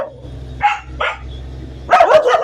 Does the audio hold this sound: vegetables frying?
no